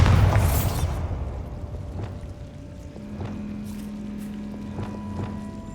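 A Bombarda spell goes off in Hogwarts Legacy as a loud burst that booms and then fades into a rumbling tail, followed by faint scattered game effects.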